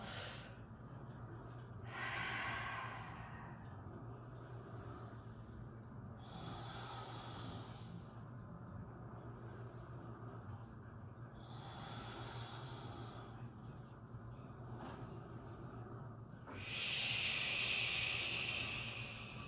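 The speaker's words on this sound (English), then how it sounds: "Take about 5 deep breaths" Slow, deep breaths during a core-focused yoga session, roughly four or five soft airy inhale-exhale swells spaced several seconds apart, quiet and close, with the last breath the strongest and no talking.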